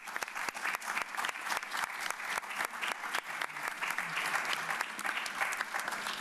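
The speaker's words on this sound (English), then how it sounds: "Can we all give a round of applause for this huge accomplishment?" Audience at a G7 ministers' press conference on inclusion and disability applauding together, a dense, sustained clapping that holds steady for several seconds with no talk over it.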